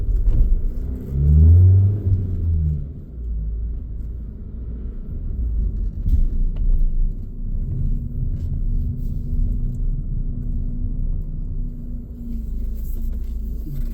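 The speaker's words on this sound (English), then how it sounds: "Big speed bump here." Volkswagen Transporter 2.0 TDI T30 van driving over a big speed bump: a deep low thump and rumble near the start, then a steady close cabin drone of engine and road noise with no talk.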